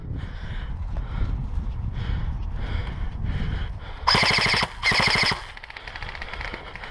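Two loud bursts of rapid-fire airsoft guns shooting close by, each lasting about half a second, with rustling movement in the woods between shots.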